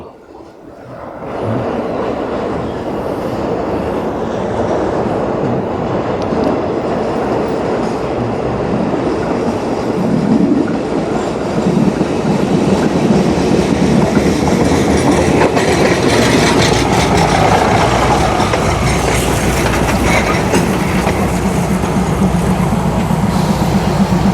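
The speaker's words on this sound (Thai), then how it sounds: "รถไฟมาแล้ว" A train rumbles into Chom Thong halt in Bangkok, its clatter and rolling wheel noise swelling loud and steady, with faint metallic squeals as it draws alongside.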